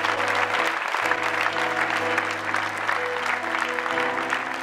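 A church congregation applauds and cheers together, a loud, sustained wash of clapping with a low hum running underneath throughout.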